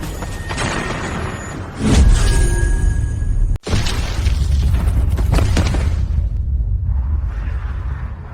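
A huge explosion from a bomb-like weapon in an ancient-times fantasy drama: two deep, loud booms with a crackling roar and rumbling debris that swells, cuts briefly to near silence, then rolls on and fades.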